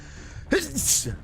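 A single sharp sneeze bursts out close by, a quick breathy intake followed by the explosive release, with faint background hum.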